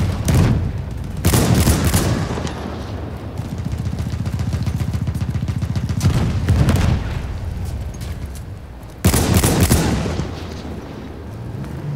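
Heavy gunfire and booming explosions fill a World War I battle in the video game Battlefield 1, with loud sharp blasts at the start and again near the end framing a sustained rattle of shots in between.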